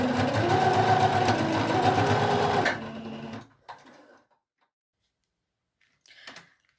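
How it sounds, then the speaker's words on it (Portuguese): A sewing machine stitches a wallet strap in a steady rapid whirring rattle for about three seconds, then stops, followed by faint handling clicks and quiet. "vou passar uma costurinha aqui rebatendo"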